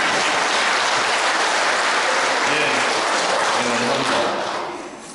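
A big audience at a Lenten lecture claps steadily and loudly, with a few faint voices mixed in, before the applause fades out at the end.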